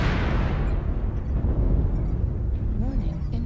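Missile explosion in an aircraft combat video game: a heavy, roaring blast that fills the whole clip with dense low rumble, fading slowly near the end while a synthetic warning voice sounds faintly over it.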